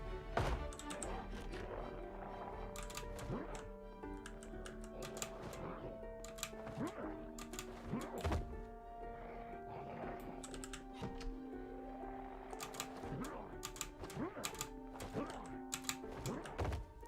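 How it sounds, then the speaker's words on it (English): Zombies bang on a door in the Project Zomboid video game, a run of irregular muffled thumps beneath steady tonal game ambience. "They're banging on something. It actually does sound like the door."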